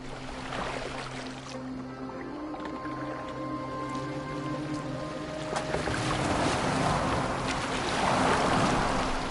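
Sailing boat moving across open water in the video game Assassin's Creed Valhalla, with a steady low hull and water wash, soft tonal hums and swelling surf that grows louder toward the end, no speech.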